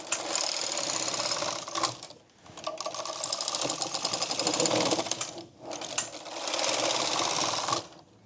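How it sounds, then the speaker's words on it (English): A Brother 270 knitting machine with an AYAB open-source modification knits a sweater cuff, its carriage clattering in loud, dense mechanical passes that break off briefly twice, with no talk. "Knitting machine. Brother 270. AYAB. Open source modification."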